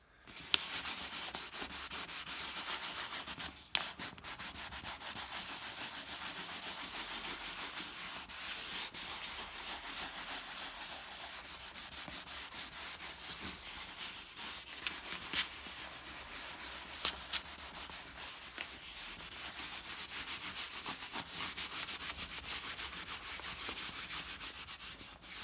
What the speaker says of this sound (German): mit dem Schleifpapier die ganzen Wangen, die ganzen Sitzflächen einmal anschleifen